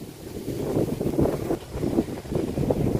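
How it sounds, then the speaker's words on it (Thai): Wind sweeps across a dry, hard-soiled farm field during a rainless spell, as a steady, fairly loud gusty rush that buffets the microphone throughout, with no voices. "เบิ่งลมเด้อพี่น้องเลย"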